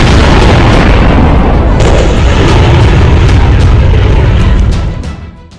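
A bunker buster bomb explodes in one continuous loud, deep blast, with rumbling debris and crackle sustained throughout before fading at the end.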